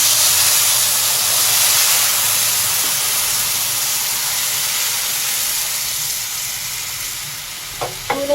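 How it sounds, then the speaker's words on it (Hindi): Sugar syrup is poured into semolina halwa cooking in a pan, setting off a loud, close, steady sizzle and hiss of frying and steam that fades slightly near the end, with a few soft knocks and no talking. "ये हमारे पास चाशनी है, जो हमने 3 गिलास और 1 पाव चीनी में तैयार करी है। ये अब हम डालेंगे।"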